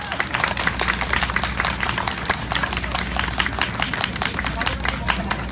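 Dense, steady applause and clapping from an audience fills the space after a live band set at the Hakata Dontaku festival, continuous and fairly close.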